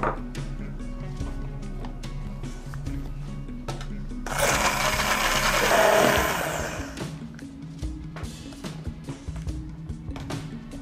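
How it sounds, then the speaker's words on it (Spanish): A blender grinding rice whirs in a short, loud burst of about three seconds amid quieter kitchen clatter and background hum. "echaremos para triturar el arroz y todo quede compacto y homogéneo, lo echaremos en una batidora"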